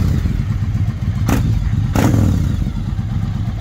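A rusty replica 1949 Indian motorcycle runs with a steady low engine rumble throughout, and two sharp broadband bursts near the middle, like an engine crank, kick or backfire catching, sit over the continuous idle.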